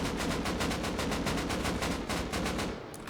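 Automatic gunfire in a video game fired from window embrasures of a base, a rapid regular burst of closely spaced loud shots lasting nearly three seconds before cutting off, no voice over it.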